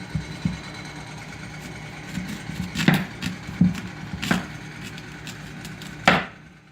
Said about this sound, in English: I'm going to cut it in two.